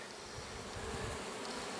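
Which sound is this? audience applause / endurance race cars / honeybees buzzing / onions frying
honeybees buzzing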